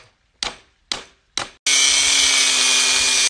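A power tool cuts through the steel bolt of a safe, starting with three short, loud bursts and then a sustained, steady high-pitched grinding whine that runs close and alone to the end.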